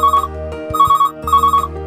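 A telephone rings for an incoming call on a phone-in show, with two or three loud electronic trilling bursts separated by short gaps.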